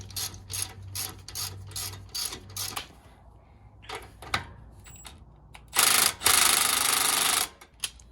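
Close ratchet wrench tightening the tie rod ends of a 2.5-ton steering upgrade on a Jeep JL/JT, in repeated bursts of rapid clicking pawl strokes, then a pause and a loud longer rasping ratchet run near the end.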